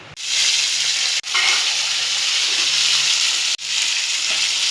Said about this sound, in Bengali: জিরাটা ভাজা হয়ে গেল